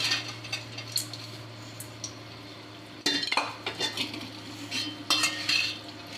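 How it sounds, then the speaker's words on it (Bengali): A metal spoon stirs washed lentils into fried masala in a cooking pot, making repeated scraping clinks against the metal with soft sizzling between strokes, close and fairly quiet with no talking. "এবার ডালটাও খুব ভালোভাবে এই মশলাতে কিছুক্ষণ কষিয়ে নেব।"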